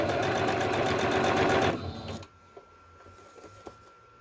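A sewing machine stitches a fabric pocket with a loud, fast, steady mechanical whir for nearly two seconds, then stops abruptly, leaving quiet handling noises.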